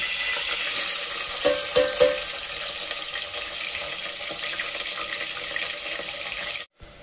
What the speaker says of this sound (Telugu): గరం మసాలా వేసినాక దీంట్లో ఉల్లిగడ్డ ఆనియన్ వేస్తున్నా.